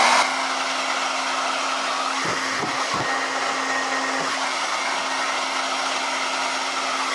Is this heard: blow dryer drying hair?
yes